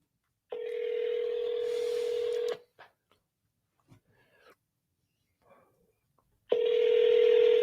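A phone being dialed to call a cash buyer for a real estate wholesaling deal: a long loud tone, then quiet scattered button taps, then the tone returns loudly; no one speaks.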